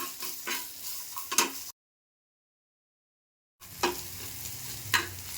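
Onion fries in oil in a pan for a Malvani-style fish curry, giving close, soft sizzling with a few stirring scrapes, broken by a gap of silence midway.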